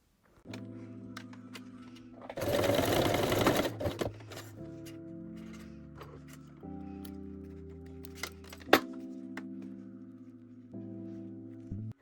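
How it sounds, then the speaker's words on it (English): Sewing machine stitching two layers of lingerie strap together, a close, steady mechanical whir that changes speed, with a loud noisy burst early on and a sharp click near the end. "I sew the two strap layers together to secure it"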